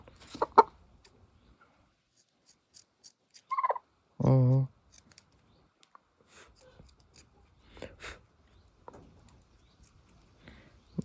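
A crested chicken or rooster held and handled by hand gives two short, close squawks in quick succession, with faint rustles and shuffling around them in an otherwise quiet setting.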